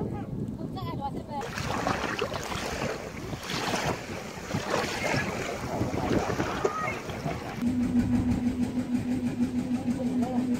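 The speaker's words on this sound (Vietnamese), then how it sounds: "vẫn còn đứng ở bờ biển hóng gió đây" Strong sea wind roars across the shore at Xuan Thuy National Park, buffeting the microphone continuously. A steady low hum joins near the end.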